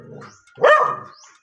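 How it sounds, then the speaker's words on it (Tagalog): A single loud, high-pitched dog bark rises sharply out of near silence, close by and on its own, with faint low sounds before and after it. "Ganyan din yung aso namin na barakuhan ng mataas."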